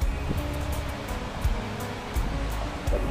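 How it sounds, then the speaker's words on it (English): Waterfall outdoors among palm trees in Las Vegas: a steady, dense rushing of falling water fills the whole stretch at moderate volume, with no voices. "That waterfall."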